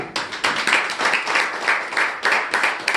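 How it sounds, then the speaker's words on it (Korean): A church congregation applauding at a Korean New Year's Eve worship service, steady dense clapping from many hands filling the room without a break. "하나님 앞에 영광의 박수 올려드릴 수 있길 주의 이름으로 축원드립니다"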